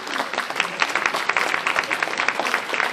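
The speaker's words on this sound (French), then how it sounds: "Vous pouvez l'applaudir." At a colloquium, an audience claps for a speaker, with dense, even applause of many hands continuing throughout without voices.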